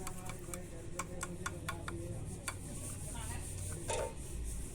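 Paint being stirred in a can before a hardener is added: repeated sharp ticking and scraping knocks in a quick uneven rhythm, close by, with a brief louder clink near the end.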